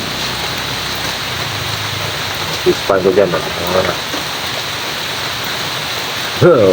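Steady hiss of rain fills the background throughout, with people talking briefly over it partway through.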